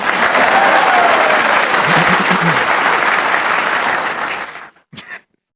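A crowd claps and applauds loudly and steadily for several seconds, then fades out, followed by a couple of brief noises.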